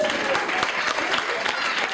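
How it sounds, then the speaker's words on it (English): Brief, moderate clapping from a small audience at a church testimony gathering, scattered claps with a voice heard over them. "You can clap again,"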